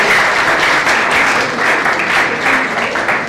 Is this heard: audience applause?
yes